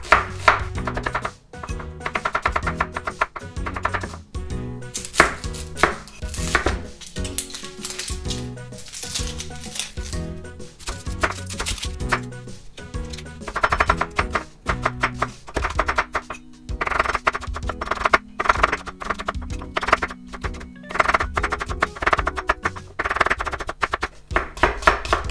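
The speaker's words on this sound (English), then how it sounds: "I like to just kind of cut it in small pieces" A knife chops onion into thin small pieces on a board for Japanese curry rice, making rapid, irregular close taps in bursts that run throughout, with a few faint tonal sounds in the background.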